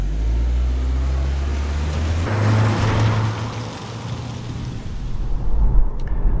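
A 2022 Honda Civic Hatchback on the road in Michigan, a loud, steady engine and tyre rumble with rushing wind that shifts in tone partway through, no talking.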